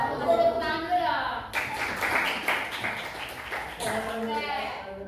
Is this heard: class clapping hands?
yes